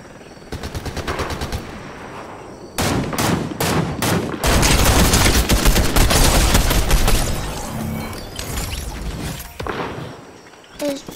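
Video game gunfire, rapid automatic bursts and single shots cracking in quick succession, then a dense sustained stretch of firing that trails off into scattered shots.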